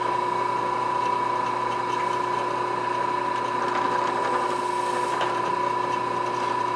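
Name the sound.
drill press drilling hard plastic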